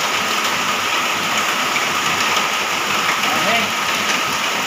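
Constant downpour drums and hisses on nearby surfaces, a dense, even wash of rain with no breaks.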